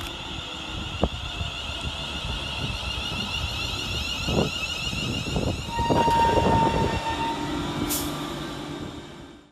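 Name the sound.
West Midlands Railway Class 350 train arriving at station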